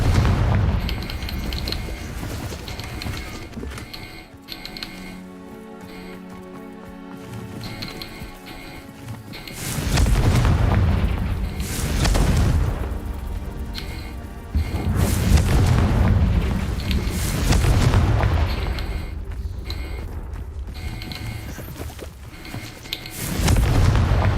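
Confringo fire spells exploding in the video game Hogwarts Legacy: loud, deep booms burst out in several heavy waves, each rumbling for a few seconds over ongoing combat noise, with no talking.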